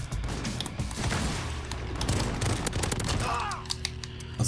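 Rapid bursts of gunfire from a battle pass weapon in Modern Warfare, a first-person shooter, crackle in quick repeated volleys for several seconds before easing into quieter mechanical handling noise.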